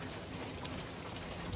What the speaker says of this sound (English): We are finally getting some rain.